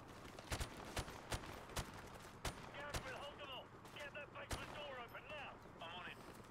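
Gunfire in the Modern Warfare Remastered campaign: sharp, loud single shots crack at irregular intervals, some in quick pairs, with scattered distant pops and short radio-like chatter between them.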